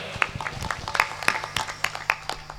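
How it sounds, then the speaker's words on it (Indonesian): Audience at a school anniversary celebration gives scattered, uneven applause, sparse claps at irregular intervals with some background murmur. "untuk tepuk tangan untuk beliau"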